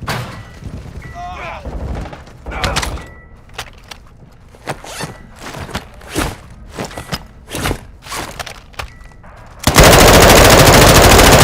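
Automatic weapons fire in Call of Duty: Modern Warfare II DMZ, sharp rapid bursts and scattered shots echoing at mid distance, ending in a loud sustained blast of noise, with game voices calling out.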